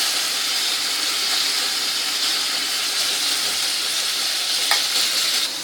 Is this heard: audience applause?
no